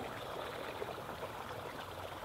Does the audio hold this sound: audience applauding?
no